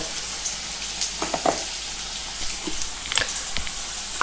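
Potato pieces and punka greens fry in a pan over medium heat, giving a steady dense sizzle with occasional spoon scrapes and small pops, close and continuous.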